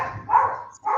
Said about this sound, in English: Sounds like a Chihuahua.